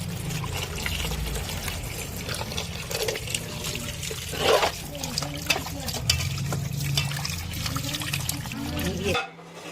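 Bele fish is rinsed in clean water in a kitchen, with continuous close splashing, sloshing and trickling that runs for several seconds and then cuts off abruptly.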